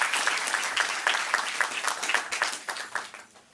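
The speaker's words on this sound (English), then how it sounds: "so round of applause for this" An audience gives a Chatham House speaker a round of applause, a dense burst of clapping close by that fades out toward the end.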